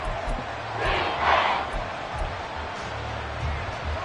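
A football stadium crowd roars in a broad wash of noise that swells briefly during a big play and then settles back into a steady distant rumble.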